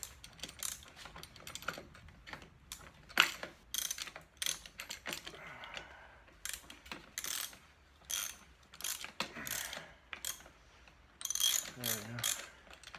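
A socket wrench ratchets in short bursts of rapid clicks while tightening a fastener on a Norton Commando 750 motorcycle during restoration, close and fairly quiet, with pauses between strokes.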